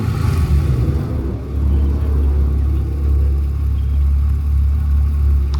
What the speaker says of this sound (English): Looks like it has the full custom Profusion exhaust system on it. Oh, it's got some bark to it.